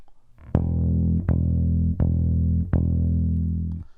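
Four evenly spaced bass guitar notes played as quarter notes, each sustained with a plucked attack, clean and close.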